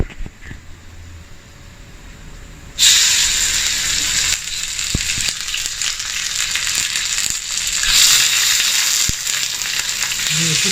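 Chicken pieces dropped into hot sesame oil with ginger and onion start a loud, hissing sizzle that bursts in suddenly after a quiet moment, with a few clinks and stirring knocks over the continuous frying.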